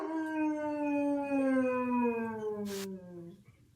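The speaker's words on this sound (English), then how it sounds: "here's the sound of a basset hound howling." A basset hound gives a long, drawn-out howl that slowly falls in pitch, close and loud, tapering off at the end.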